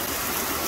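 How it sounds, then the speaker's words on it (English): Rain comes down hard at night over a yard lit by solar landscape lights, forming an unbroken, even wash of hiss close by with no talking. "Absolutely pouring rain."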